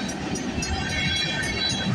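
Near and loud, a long freight train with flat cars keeps passing a street crossing, its dense rumble and clattering wheels holding steady, with faint rhythmic clacks showing through.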